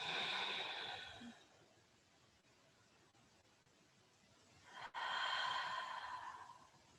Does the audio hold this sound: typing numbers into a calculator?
no